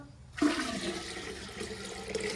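Water pours steadily into a clay drinking-water pot, a sudden rushing start followed by an even, continuous gush, close by and without speech.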